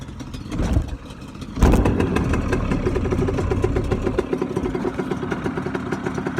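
An 85cc dirt bike with the choke on is kick-started, a sharp burst at about 1.5 seconds giving way to a steady, close, buzzing idle that runs to the end.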